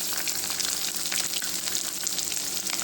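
Green chillies and chopped onions fry in hot oil for a spicy kulambu, a steady close, loud crackling sizzle that runs without a break and has no talk over it.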